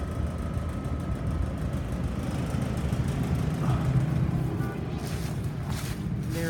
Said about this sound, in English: this is a heat pump